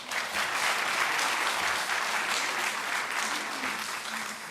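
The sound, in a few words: audience applause at party rally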